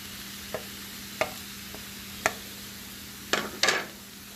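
Green pepper, sweet onion and garlic on a Camp Chef Explorer griddle give a faint, steady sizzle, broken by five or six sharp scrapes and knocks of a utensil stirring them, the last two louder.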